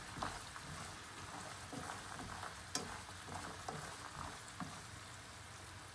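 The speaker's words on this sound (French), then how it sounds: "je remue très régulièrement" Almonds being stirred in bubbling sugar syrup as the water boils off, giving a steady sizzle with scraping stir strokes and occasional louder clicks, close and continuous without talk.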